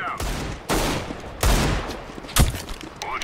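Gunfire in Counter-Strike: Global Offensive comes in repeated loud, sharp bursts, each followed by a short rattling decay, with gaps between volleys.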